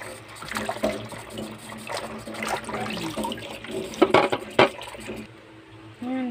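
Tap water running and splashing as vegetables with sandy stalks are washed in a sink, a steady faint stream broken by a few louder clatters and splashes near the end.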